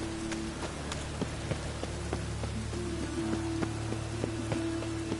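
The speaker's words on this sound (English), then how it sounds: "And it's raining again." Steady rain falls in The Witcher 3, a dense, continuous patter of drops on surfaces with scattered sharper drips, alone and fairly loud throughout, with a low ambient hum beneath.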